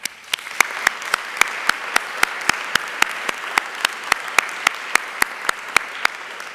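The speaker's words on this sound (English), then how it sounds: "For that, you deserve a round of applause" A round of applause from the audience at an honors convocation, a steady, full wash of many hands clapping with regular sharp claps standing out, sustained and fairly loud.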